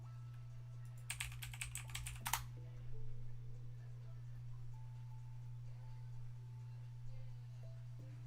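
Fast bursts of typing on a computer keyboard, with clustered key clicks for about a second and a half over a steady electrical hum, then quieter scattered sounds with no keystrokes.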